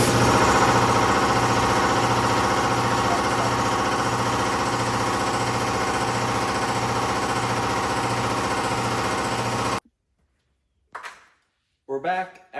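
An air compressor in a workshop where a Harley Panhead engine is being rebuilt, a loud steady chugging motor hum that runs for about ten seconds and then cuts off, followed by brief talk.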